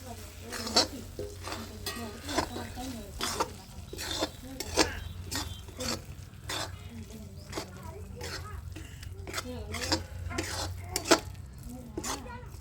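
Carrot halwa with cashews and almonds is stirred in a metal pot, a regular series of spoon scrapes and clinks at a moderate level, with a voice talking underneath.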